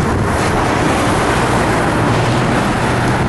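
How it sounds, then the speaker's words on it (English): Ocean waves and wind at a beach beside A1A in Florida, heard as a steady, loud broadband wash of surf with wind buffeting the microphone throughout, no voices. "There's the ocean right there."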